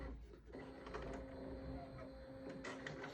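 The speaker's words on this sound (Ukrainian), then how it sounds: "Принтер проходить ініціалізацію в штатному режимі і стає в готовність." DTG UV printer initializing after power-on, a steady mechanical whir and hum with faint motor tones and small shifts, close and fairly quiet, continuous throughout.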